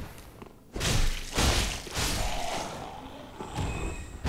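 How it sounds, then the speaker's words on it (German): A barricaded door blasting apart in Dark Souls III, a series of heavy thuds and crashing bursts, loud and close, followed by rumbling debris noise. "eine verbarrikadierte Tür, die Barrikade explodiert"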